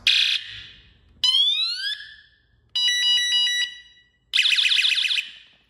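Four different loud electronic wheelchair horn alarm sounds play one after another, each a short burst: a warble, a rising sweep, a pulsing beep, then a trilling tone.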